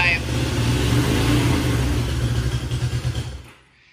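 A car engine, just brought back to life and still in need of a tune-up, runs loud and close with a rough, steady drone, then pulses in quick revs before cutting off near the end.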